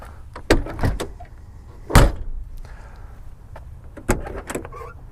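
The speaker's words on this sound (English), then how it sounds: "You can see actually the doors shut real nice." Three solid door thuds from a 1963 Lincoln Continental, each one sharp and close, spread out across a few seconds with quiet between them.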